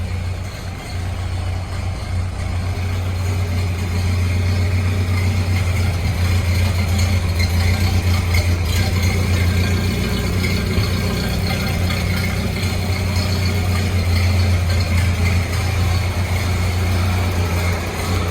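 A 1931 Ford Model A Tudor Sedan engine idles steadily and loudly close by, a deep low rumble holding even throughout with no voices over it.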